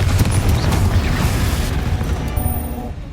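A fiery Confringo spell explosion in Hogwarts Legacy, a loud, sustained booming rumble with crackling debris that slowly fades over a few seconds, heavy in the low end.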